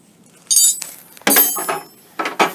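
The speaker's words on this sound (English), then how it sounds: "I'm going to bring the wrenches, just bring them towards each other so that they lock." Metal pipe wrenches clank together on a grooved pipe in a few sharp bursts, with ringing metallic clinks and scrapes separated by short silences.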